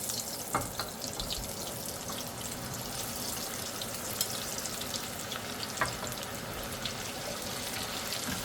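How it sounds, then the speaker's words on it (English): Potatoes frying in oil in a cast iron pan, a steady close sizzle and crackle with faint scattered pops throughout, no voices. "Cast iron with some oil. About to fry the potatoes."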